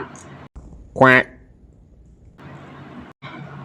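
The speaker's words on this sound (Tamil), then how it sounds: "இதுதான் வாத்து கத்துற சத்தம்" One short, loud duck quack cuts through a low background hum, with softer murmurs before and after.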